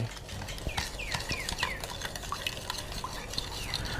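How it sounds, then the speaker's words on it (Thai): A spoon stirs granulated sugar and ground salt into hot water in a bowl until they dissolve, giving a steady run of light clinks and scrapes with some faint background sounds. "ใส่น้ำตาลทรายลงไป เกลือป่น แล้วคนให้ละลาย"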